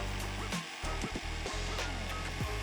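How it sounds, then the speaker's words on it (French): Harsh, steady power-tool whine of a jigsaw cutting the corners of a wooden workbench top, continuous and close, with a brief dip in the middle before cutting resumes. "découpez les 4 coins à la scie sauteuse"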